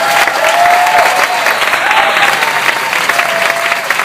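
Loud, steady crowd applause with some cheering fills the whole stretch at DC VegFest, an outdoor vegan festival, and no one speaks over it.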